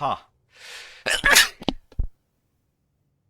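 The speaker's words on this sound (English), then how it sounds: "I feel like I'm gonna sneeze." A person lets out a sharp sneeze, with a breathy wind-up gasp before it and a short exhale after, close up and loud, then silence.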